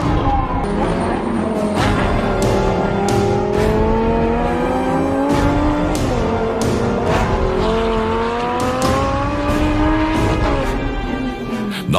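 A race car with a newly fitted engine runs a practice session at Fuji, Japan, on qualifying day, its loud close engine note climbing and falling through repeated revs and gear changes without pause.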